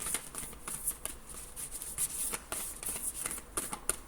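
Stiff tarot cards are shuffled by hand close up, a quiet run of rapid riffling flicks and soft slaps with brief pauses, no talking.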